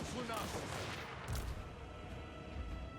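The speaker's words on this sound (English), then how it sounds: "Here's some more cannon shots coming in." Cannon fire in a Total War Warhammer 3 battle: a dense rumble of overlapping booms and battle din, with a couple of stronger impacts standing out of the continuous roar.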